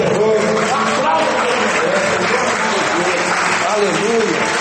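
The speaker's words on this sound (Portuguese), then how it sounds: "Aplauda" A church congregation at a Portuguese-language sermon breaks into loud, continuous clapping, with a voice singing or calling over the steady applause throughout.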